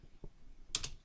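Keystrokes on a computer keyboard while coding in VS Code: a faint tap, then a quick pair of crisp clicks close together, near and fairly quiet, with no talking.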